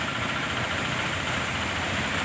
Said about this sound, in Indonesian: ini adalah proses penggilingan